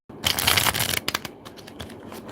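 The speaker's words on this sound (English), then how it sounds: "Shuffle the deck one more time." A deck of tarot cards being shuffled close up, a dense riffling burst followed by a few sharper snaps and softer bridging flutters.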